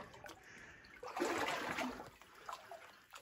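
Knee-deep water in a flooded abandoned gold mine sloshes and splashes in a faint, close surge that swells and then trickles away.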